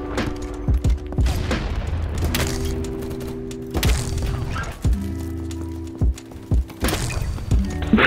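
BattleBit video game gunfire in sharp bursts and booming shots, cutting in and out over a steady electronic drone.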